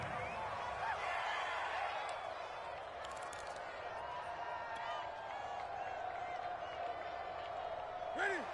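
Steady stadium crowd murmur at a Colts football game in a PS4 football video game, a continuous moderate roar with brief swells, running under a commentator's voice.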